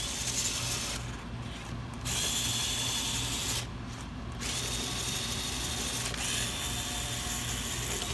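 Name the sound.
DeWalt power tool working on injector bolts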